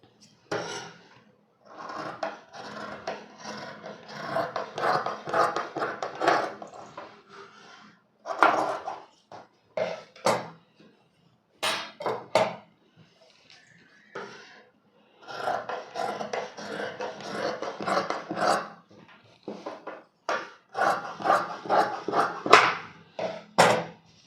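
Scissors cutting through blouse fabric on a table, repeated rasping snips in long runs with brief pauses between, close and fairly loud.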